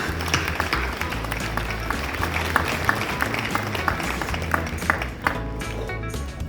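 An audience at a Lourdes seniors' meal applauding together, a dense, sustained wash of many hands clapping in a hall, fairly close and steady, with a few sharper claps standing out.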